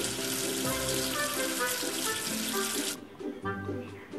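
Tap water gushing steadily for about three seconds as soap is rinsed off in a sink, then the flow cuts and brief splashes and drips follow.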